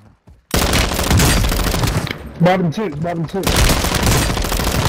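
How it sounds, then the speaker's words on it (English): Rapid automatic gunfire in Call of Duty: Modern Warfare II rattles loudly and almost without pause, broken briefly as a voice speaks over it. "who the fuck is shooting?"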